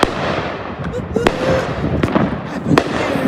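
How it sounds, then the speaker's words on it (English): Neighborhood fireworks bang at New Year's midnight in a run of sharp cracks over a crackling outdoor background, with a loud report near the start and several more spaced through, alongside faint voices. "Fireworks again."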